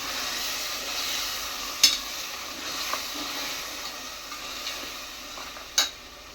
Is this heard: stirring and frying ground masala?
yes